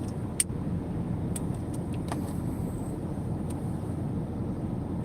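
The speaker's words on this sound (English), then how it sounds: "got our normal morning traffic." Morning road traffic rolls past in a continuous low hum, with a few faint clicks and taps scattered over the steady rumble and no talking.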